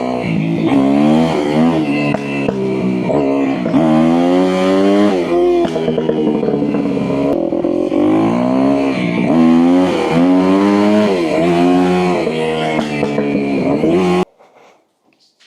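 A newly bought motorcycle engine runs loud and close while being moved into a garage, with rising and falling revs over about fourteen seconds before cutting off abruptly to near silence.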